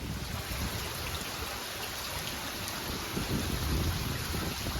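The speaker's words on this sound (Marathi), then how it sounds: "नदी आहे आणि त्याचं पूर्ण पाणी हा इकडे आतमध्ये घुसलेला आहे" Ulhas River floodwater flowing into a village lake area during a flood, a steady, broad rushing and hissing wash that stays even and continuous with no voices.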